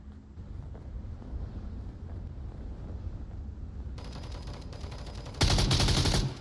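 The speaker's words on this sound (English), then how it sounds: "More suppressing fire through the smoke" Suppressing gunfire in a VR shooter match fires through smoke, a dense rattle of rapid shots over constant low rumble, swelling louder and brighter in the final second.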